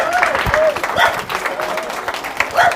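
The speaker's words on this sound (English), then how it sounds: "Big round of applause, and yeah, we'll get started." A crowd at a product management talk claps loudly and continuously, close and dense applause with some brief voices and cheers mixed in.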